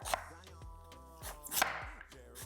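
Knife chopping squash on a cutting board, a run of about eight sharp, close thuds in an uneven rhythm, with faint kitchen clatter between cuts.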